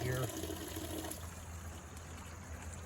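Spring water trickles thinly from a rusty pipe during a drought, barely flowing: a steady, faint splashing that holds close and even throughout.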